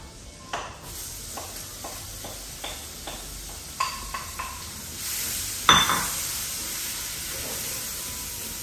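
Butter melting and onion frying in a pan for a Cajun prawn sauce: quiet sizzling with scattered utensil clinks and scrapes, a louder clatter and burst of sizzle near the end.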